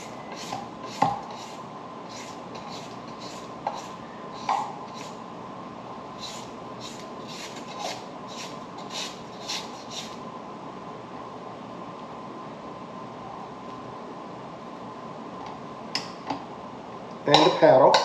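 Spatula scraping around a mixing bowl of pound cake batter, giving a run of soft, regular clinks and scrapes close by over a quiet hiss, ending in a louder clatter.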